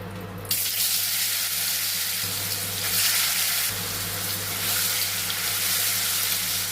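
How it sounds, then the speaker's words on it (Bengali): Paneer frying in a pan for a quick Bengali vegetarian milk-paneer dish, giving a steady broadband sizzle that starts abruptly and holds close and even throughout, with no talk. "অল্প পনির দিয়ে দিলাম অল্প করে পনিরটা ভেজে নিচ্ছি"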